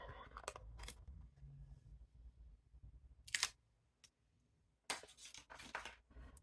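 Protective paper is peeled off a new Sony Xperia 5 IV phone: quiet, close crinkling and tearing in short bursts, with near-silent pauses between them.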